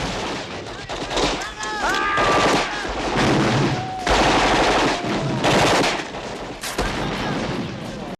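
Rapid bursts of film gunfire sound effects crackle repeatedly over several seconds, with voices shouting between and under the shots.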